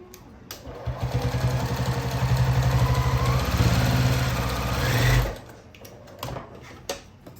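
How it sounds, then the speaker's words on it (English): A sewing machine stitches down a bag handle centered on the seam of a boxy bag, running in a loud, steady whirring burst for about five seconds before stopping, followed by a few faint clicks. "And then I'm just going to sew that down."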